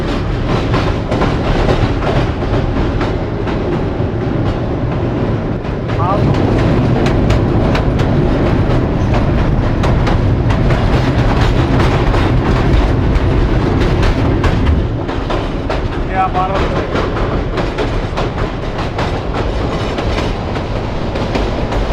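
Paharika Express train running toward the Kushiara rail bridge over the Kushiara River, heard from on board as a loud, continuous rumble with rhythmic clickety-clack of wheels on rail joints and no talking.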